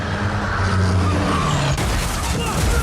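Vehicle engine and road noise from a truck in Stranger Things, a loud continuous rumble with a rising whine, cutting abruptly partway through.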